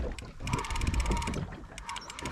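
A fishing reel being cranked in on a boat while reef fishing, giving a steady run of fast ratcheting mechanical clicks that sounds close and moderately loud over a low background rumble.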